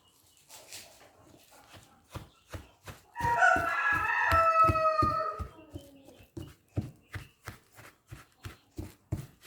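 Nineteen-day-old chicks scratch at the ground inside a cage, making a regular run of soft, scraping taps. A brief burst of bird calling breaks in partway through, then the scratching goes on alone.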